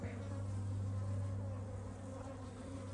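Dense, steady buzzing of many honeybees close by inside an open hive in summer, a continuous droning hum without pauses.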